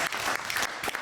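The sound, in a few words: audience applause for stand-up comedian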